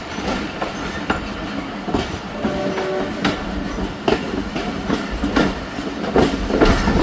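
Khyber Mail passenger train running on the track near Taxila Cantt, a steady rumbling ride with rhythmic clickety-clack of wheels over rail joints and occasional sharper knocks, heard from aboard the carriage.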